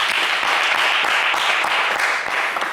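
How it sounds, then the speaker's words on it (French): Loud, dense studio audience applause on a French game show, steady and sustained throughout without pause. "mais on va applaudir Richard, bien fort."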